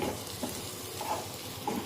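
Semolina (rava) for mango sheera is stirred in a kadhai over low heat, a soft continuous sizzle with faint scraping turns, close and steady with no talk.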